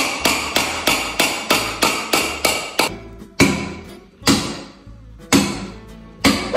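A small hammer strikes repeatedly during home renovation work, first in a quick steady run of sharp close blows, then in slower, heavier, spaced hits that ring out loudly on their own.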